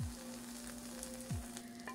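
Eggplant slices fry in a shallow layer of oil without any gram-flour batter, giving a steady close sizzle and crackle with no voices.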